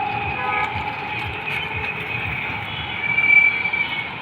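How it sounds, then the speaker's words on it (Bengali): A metro train rumbles past near Uttara with a steady low roar and a faint high whine, swelling slightly near the end. "এই যে হচ্ছে মেট্রো রেল কিন্তু যাইতেছে"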